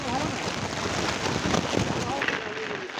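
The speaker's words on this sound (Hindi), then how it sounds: "देख सकते हैं तगड़ी वाला बारिश आ गया" Heavy rain pours down at a nighttime local market in Jharkhand, a steady dense hiss filling the whole scene close by, with faint voices now and then underneath.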